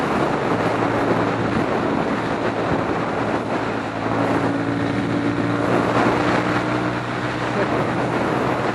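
A Suzuki motorcycle ridden along an Arizona road, a steady loud engine drone blended with heavy wind rush from riding, continuous and close throughout.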